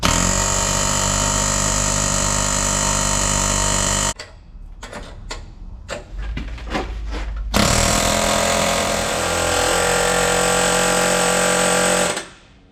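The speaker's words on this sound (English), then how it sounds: "Hammer bit, go in here, you can watch that pin." Loud, continuous hammer drill roar driving out a stuck pin, cutting out for a few seconds of scattered clanks and taps, then resuming at full force before stopping.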